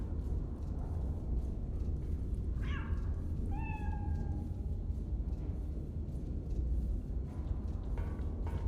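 A single cat meow from a video game, short and moderately clear, rising then falling over a constant background hiss and hum, with no talking.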